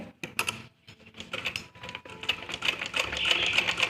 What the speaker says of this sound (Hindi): और इस तरह से सिलाई लगाते जाएंगे।